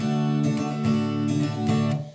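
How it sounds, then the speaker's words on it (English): Guitar strummed with the fingers in a song's strumming pattern, softer strokes in a steady rhythm over ringing chords, close and fairly loud. "or you can use your finger like this now."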